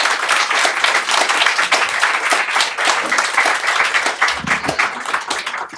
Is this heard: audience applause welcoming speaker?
yes